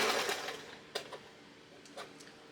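A sewing machine running basting stitches on fabric for a 1950s-style top, starting with a close whirring burst, then dropping to a few soft clicks and short mechanical pulses.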